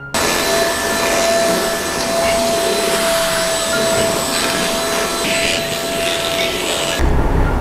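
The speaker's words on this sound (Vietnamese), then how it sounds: "hút thử bụi ở trên cái chăn này xem coi nó có" A handheld bed and mattress vacuum cleaner runs on a blanket with a steady, loud motor whine and airflow hiss, a high tone holding throughout before the sound shifts near the end; no one speaks.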